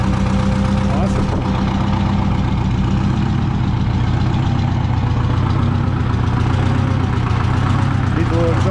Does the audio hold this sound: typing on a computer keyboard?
no